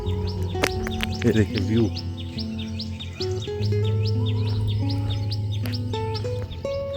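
Birds chirp and tweet repeatedly in the background in the foothills near Dehradun, India, while someone speaks briefly over them.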